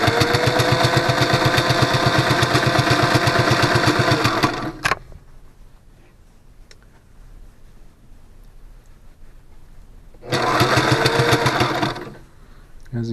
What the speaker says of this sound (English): the walking foot pulls this super thick, super bouncy fabric in quite nicely and holds it down there while I sew it